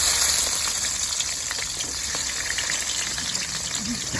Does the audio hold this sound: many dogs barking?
no